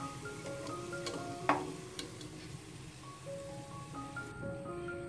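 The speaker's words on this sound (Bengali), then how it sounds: "পেঁয়াজটাকে নেড়েচেড়ে আমি পুরোপুরি বেরেস্তা করে নিচ্ছি" Onions being stirred and fried in oil until golden brown for a beef biryani, with a soft steady sizzle, light scraping of the stirring spoon and a few clicks, fairly quiet and without talk.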